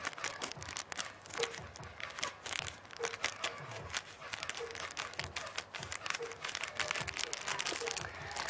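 A plastic parcel bag holding a blue T-shirt crinkles and rustles in close, irregular bursts as it is handled and opened, with quiet talking underneath.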